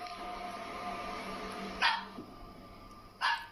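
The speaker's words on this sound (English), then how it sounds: "Your dog just started barking" Two sharp dog barks, spaced about a second and a half apart, ring out over a steady background hum.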